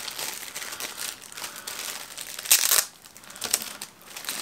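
Ziploc plastic bag being handled: close, loud crinkling and crackling in irregular bursts, with a sharper crumpling peak midway, no talking.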